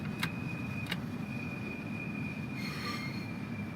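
Train wheels squealing in Train Sim World 4: a thin sustained high-pitched squeal over a steady rolling rumble, with a couple of brief metallic ticks and a brighter screech near the end.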